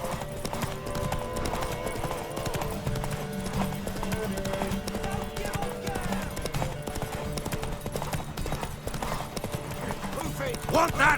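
Horse hooves galloping steadily during a race in The Witcher 3: Wild Hunt, a fast continuous clip-clop under game music with voices speaking over it.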